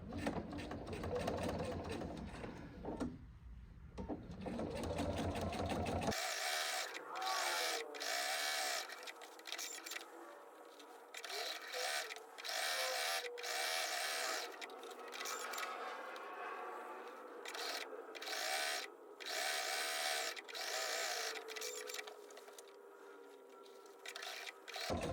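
A sewing machine stitches binding onto a quilt, humming close and steady with a rapid needle chatter that runs nearly unbroken, slowing briefly now and then, with no talk.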